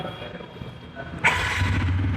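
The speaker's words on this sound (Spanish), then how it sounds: "La moto prende de uno, si escucha un poco más fuerte el sonido del escape." A 2025 TVS Apache 160 4V fuel-injected motorcycle fires up, its engine catching sharply partway through and settling into a steady, fairly loud idle with a firm exhaust note.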